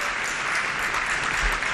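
A gala audience at the 2012 Athens Classic Marathon event gives a singer a warm, sustained round of applause: dense, steady clapping with no gaps, loud and close, heard alone without speech.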